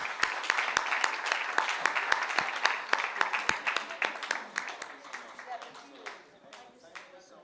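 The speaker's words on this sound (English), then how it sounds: "Let's give a big round of applause to an amazing panel." Applause for a panel at a road safety event, with a few loud, close claps over a dense crowd of clapping that gradually thins and fades toward the end.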